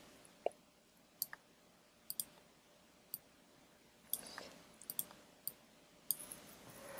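Computer mouse clicking during Photoshop pen-tool work: about a dozen sharp, quiet clicks at an irregular pace, some in quick pairs, over a faint steady room hiss with no talking.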